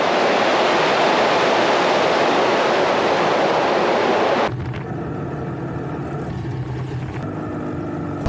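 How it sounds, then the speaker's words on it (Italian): A river rushes through a narrow gorge in cold winter weather, a steady broadband roar that holds for about four seconds before cutting to a quieter, thinner flow with faint rustling. "il fiume ha scavato questa gola"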